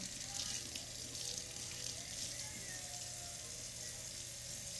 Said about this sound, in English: Steak number one I'm washing.